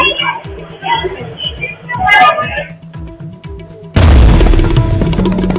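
A ground-level blast in Delhi, caught on a shop's CCTV near a metro station, erupts as a sudden loud boom. Speech-like sound comes before it, and a heavy, sustained rumble follows.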